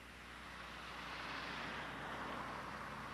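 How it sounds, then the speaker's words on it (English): Traffic on a highway beside Red Oak, Iowa, in November 1989 passes in a continuous faint broadband rush of wind-like road noise, with no one speaking. "So there's traffic zooming by"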